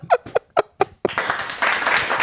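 A small group of people breaks into applause after a few short spoken exclamations. The steady, close clapping continues to the end and grows slightly louder near the finish.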